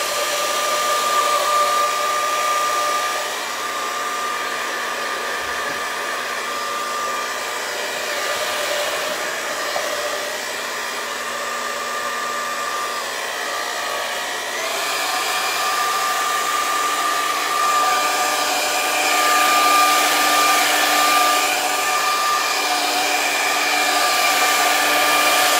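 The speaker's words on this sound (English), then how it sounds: "I'm using this dryer so it helps the process" A hair dryer runs steadily to dry paint on a Valentine's heart painting, a loud continuous whirring hum with little change across the whole stretch and no talking.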